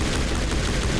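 Gun loaded with snowblind rounds firing in Mass Effect, a rapid burst of close, loud shots that run together into a continuous crackling rattle over a heavy low rumble, with no talk.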